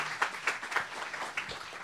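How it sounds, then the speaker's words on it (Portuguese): Scattered clapping from an audience greeting panel guests at a digital-transformation business event, a handful of distinct claps standing out over a quiet room. "agora uma salva de palmas para os nossos convidados."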